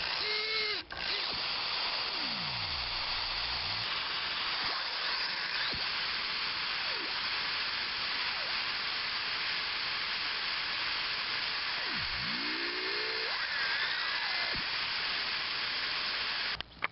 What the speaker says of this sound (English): Good sharp small drill bit will successively drill this out.